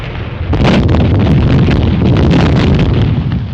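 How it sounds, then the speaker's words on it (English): An artillery barrage from a 1930 war film, Half Shot at Sunrise: dense, continuous rumbling explosions with repeated bursts, loud and unbroken throughout. "Somebody will have to crawl through that barrage."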